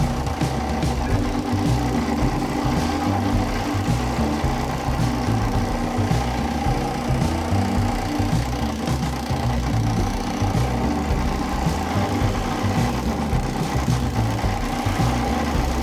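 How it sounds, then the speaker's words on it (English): A power sander working the teeth of handmade wooden gears gives a steady motor hum with a rapid buzzing vibration, continuous and close, with no talk. "closely I'm able to sand the teeth right up to the line on the template."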